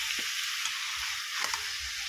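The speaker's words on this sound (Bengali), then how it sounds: "মাটনটা কষা কষা হয়ে এসছে তো ওটা ভালোভাবে ভালো করে কষিয়ে নেব" Mutton frying in a pan for kosha, a continuous bright sizzle with faint stirring knocks, close and steady with no talking.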